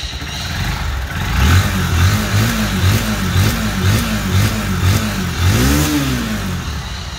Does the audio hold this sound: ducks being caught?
no